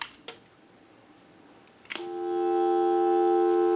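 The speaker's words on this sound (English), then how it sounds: "So what we want to do is go ahead and give you some dial tone." A couple of faint clicks, then a steady dial tone from a Harris TS22LO lineman's test telephone begins and holds loud and unbroken until the end.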